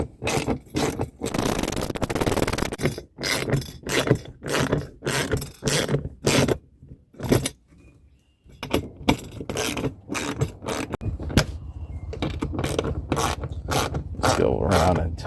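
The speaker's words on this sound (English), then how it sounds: "I'm going to use a 13mm socket wrench." A 13mm socket wrench tightens bolts on an oversized Gorilla dump cart, its ratchet clicking in rapid close bursts with short pauses and scraping metal between strokes.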